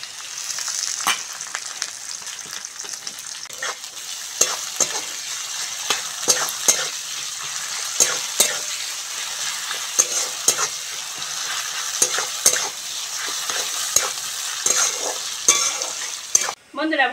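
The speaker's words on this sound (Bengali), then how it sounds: "ভালো করে পেঁয়াজ আর রসুনটা ভেজে নিয়েছি" Onion and garlic fry in a pan for an egg curry with raw mango, a constant bright sizzle broken by frequent rhythmic spatula scrapes and stirring knocks, close and fairly loud.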